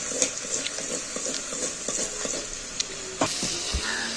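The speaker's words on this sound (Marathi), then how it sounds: "आता हे आपण सगळं हलवून घेतलेलं आहे तूप लागलेलं आहे सगळ्या राताळ्याच्या फोडीला" Sweet potato pieces are turned in ghee in a pan: a light sizzle under a quick series of soft stirring taps and scrapes, ending with a louder knock of the utensil, close by.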